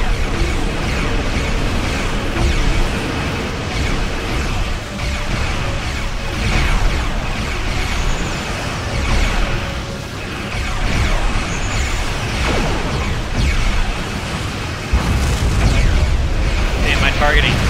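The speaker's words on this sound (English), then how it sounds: "Who's shooting at me?" Continuous loud gunfire and explosions in a Klingon video game, dense booming blasts and mechanical rumble layered throughout without pause.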